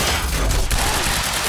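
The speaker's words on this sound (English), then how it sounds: "I just wanted to do a really big explosion before we start doing what the game told me to" Big explosion and rapid gunfire in the video game Quantum Break, a dense, loud burst of blasts and crackling shots packed into a brief moment.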